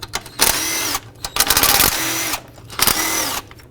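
Power drill spinning out 10mm bracket bolts on a 1997–2003 Ford F-150, heard in three close, loud whirring runs of about a second each, broken by brief pauses.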